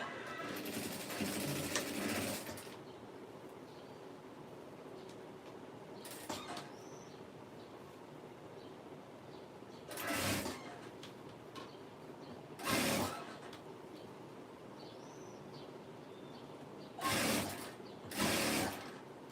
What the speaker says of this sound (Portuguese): esse acabamento aqui e vou costurar, tá?